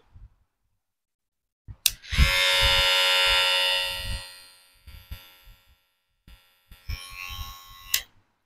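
A hair cutting machine switches on and buzzes with a loud, steady electric whir for about two seconds, then winds down, followed by handling knocks and a second brief burst of buzzing before it clicks off.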